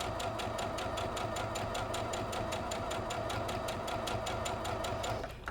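A sewing machine stitches along a marked line on a Friendship Star variation quilt block, a steady rapid mechanical chatter with even pulses, close and alone, stopping abruptly at the end.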